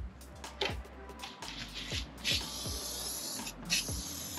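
Aerosol spray paint hisses in a steady, wide fan while coating a Cadillac Escalade D-pillar cover, the bursts stopping and restarting with low thumps and knocks between them; no talking.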